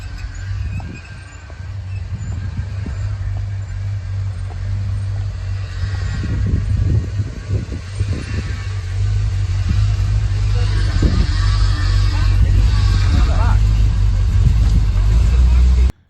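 A 1976 Chrysler New Yorker arriving at a church, its engine giving a loud, steady low rumble that builds and holds close by for the whole stretch, with faint background sounds over it.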